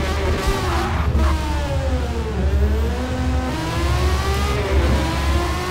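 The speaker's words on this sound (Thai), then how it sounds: "เสียงเครื่องหวานเจี๊ยบ" A car engine in the Forza Motorsport 2023 racing game revs steadily, holding a smooth, continuous drone that rises and falls slightly in pitch, loud and alone without talk.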